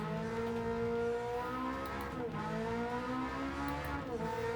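A race car engine in Gran Turismo 7 drones steadily at high revs during a race, with pitch shifts as gears change and a faint tire squeal, loud and continuous with no voices.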